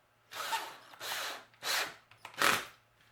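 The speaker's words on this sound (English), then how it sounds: "So with the 6 holes drilled, we're going to put in some screws" A power drill drives screws into a wooden bat house, four separate whirring bursts of about half a second each, close and fairly loud, set apart by short pauses.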